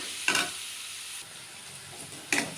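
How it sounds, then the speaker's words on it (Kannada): Chopped onions fry in a pan for a plain palak dish, with a soft continuous sizzle broken by two brief scraping stirs, one near the start and one at the end. "2 ಈರುಳ್ಳಿ ಕಟ್ ಮಾಡಿ ಹಾಕಬೇಕು. ಈರುಳ್ಳಿ ಚೆನ್ನಾಗಿ ಫ್ರೈ ಆಗಲಿ."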